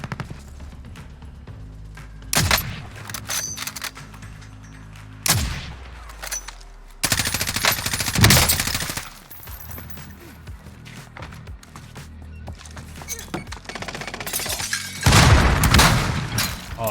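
Loud booming sniper shots from an HDR rifle ring out in the Warzone video game, several sharp blasts spaced seconds apart, mixed with other in-game gunfire, explosions and action sounds.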